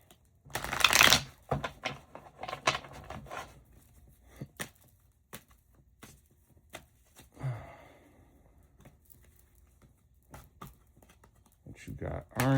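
Tarot cards being shuffled by hand, a loud riffle burst at the start, then scattered soft flicks and taps of cards, with a few quiet breaths between them.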